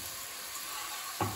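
Onion and pepper sizzle in a kazan, a faint, steady frying hiss with a brief louder clatter near the end.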